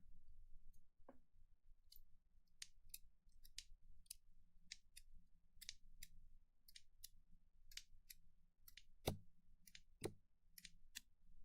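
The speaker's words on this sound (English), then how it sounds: "let's move to the other ear for the scissors" Crisp scissors snipping in an irregular series of sharp metallic cuts, close and quiet, with no talking.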